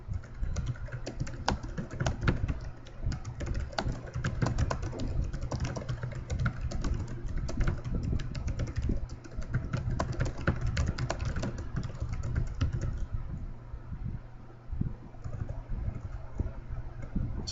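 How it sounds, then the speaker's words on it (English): Steady, fairly close keyboard typing runs through the whole stretch as a dense patter of quick keystrokes, with no pauses long enough to stand out and no voices. "I'm going to type in what it has here."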